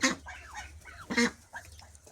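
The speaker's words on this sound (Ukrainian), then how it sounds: "Ось такі наші качачки." Farmyard ducks quack and honk in a few loud, close bursts with brief pauses between them, and no one talks.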